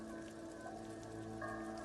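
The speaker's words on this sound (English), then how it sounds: "Droplets of rain fall on the wooden planks, the surrounding sand dunes." Light rain in Disco Elysium falls on wooden planks by coastal sand dunes at night, a soft steady patter under a constant ambient drone, quiet and without speech.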